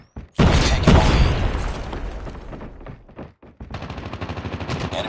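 Frag grenade explosion and gunfire in the video game Call of Duty Mobile: a loud close blast with rumbling debris, then a short lull and rapid, rhythmic automatic fire.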